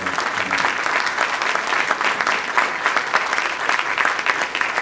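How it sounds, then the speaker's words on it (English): Sustained audience applause at a Rotary club meeting, many hands clapping together in a dense, even roar of moderate loudness that holds steady throughout. "join me in giving a big round of applause to"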